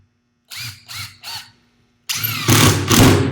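Power drill driving a screw into a plywood decking frame: three short bursts of the motor whirring, a pause, then a longer, louder sustained run as the screw goes in, close and alone.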